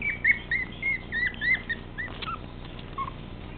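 A teacup chihuahua puppy lets out a string of thin, high yips and whimpers indoors on a couch, fairly close and moderately loud, with a few quieter squeaks trailing off toward the end.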